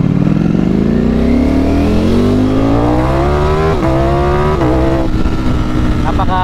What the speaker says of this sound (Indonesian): Napakagaan at napakalakas ng motor na to.